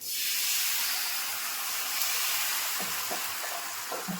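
Thinned rice-flour ghavane batter hits a hot pan and sizzles loudly, a dense steady hiss that eases slightly over time, with a few faint clinks near the end.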